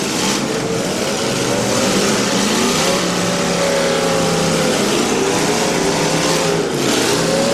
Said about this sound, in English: Browder now trying to get that big old car moving.